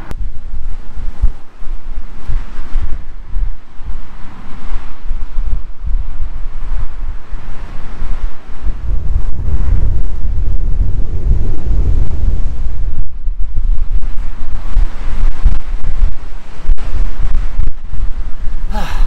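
Strong seashore wind roars against the microphone in loud, continuous buffeting gusts, with surf rumbling beneath and swelling heavier in the middle stretch.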